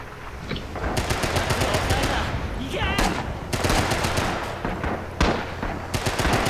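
Rapid bursts of automatic gunfire from the Rising Storm war video game, sharp repeated cracks clustered in fast volleys with brief pauses between them, dense battlefield noise throughout.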